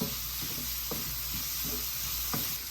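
Curry leaves sizzling in hot oil while pepper shrimp curry is being cooked: a steady, close frying hiss with a few faint crackles and soft stirring scrapes, and no talking.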